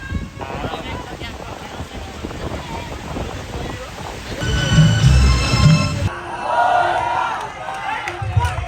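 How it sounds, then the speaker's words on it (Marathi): A crowd cheers and roars in the rain at a large Dahi Handi festival in Ambernath, a dense, swelling mass of voices mixed with wind and rain noise, loudest toward the middle, with nearby speech over it. "पाऊस चालू आहे तरी पण एवढा जबरदस्त जल्लोष आहे पोरांचा"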